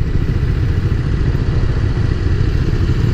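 A 2018 KTM 390 Duke motorcycle being ridden gives a loud, steady engine rumble with a dense low drone and rattling texture throughout, and no voices.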